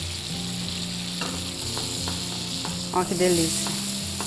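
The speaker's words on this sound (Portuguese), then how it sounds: "Vou começar a colocar as sálvias, ó. Pra ela ir soltando o saborzinho dela aqui na manteiga" Sage leaves fry in melted butter in a frying pan with a steady, close sizzle that swells briefly near the end, while a voice speaks over it.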